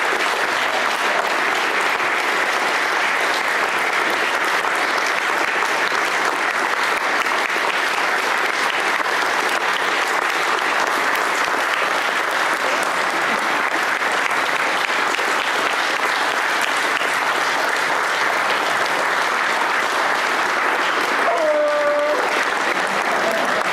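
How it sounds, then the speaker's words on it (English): Sustained applause from a conference audience at a closing session, dense even clapping that fills the room for over twenty seconds at steady loudness, with a faint voice breaking through near the end. "I would really ask a huge applause to the organizing team"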